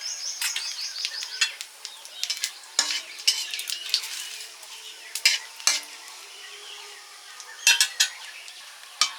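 Black cumin and dried red chilies fry in mustard oil with a soft continuous sizzle, punctuated by sharp clinks and scrapes of a spoon stirring against the pan at close range.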